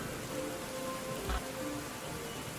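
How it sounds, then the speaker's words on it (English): Steady rain ambience plays as a soft, even patter with broadband hiss, and a brief low thump sounds near the middle. There is no speech. "Let me mute the rain audio that I have real quick."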